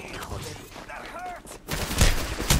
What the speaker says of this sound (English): That is definitely a gun.